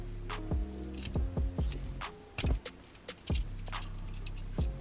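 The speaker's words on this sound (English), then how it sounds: "And now we take all four Allen keys out again." Small metal Allen keys clink and rattle in quick, irregular taps while being removed from a Honda Civic EP short shifter assembly, heard up close with no talking.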